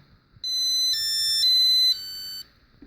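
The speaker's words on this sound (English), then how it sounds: "So first we will sound the doorbell." A doorbell tone from a demo alarm system sounds alone, a loud electronic chime stepping between four steady pitches over about two seconds, then stopping.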